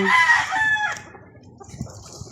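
A gamefowl rooster crows once, loud and close, its harmonic call rising then trailing off within a second, followed by quiet background with faint clucks or rustles.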